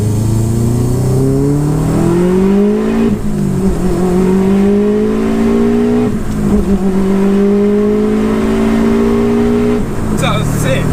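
A fully built 530bhp Subaru WRX engine screams as it revs and accelerates hard through several gear changes, its pitch climbing and then dropping at each shift. It is loud and heard from inside the car.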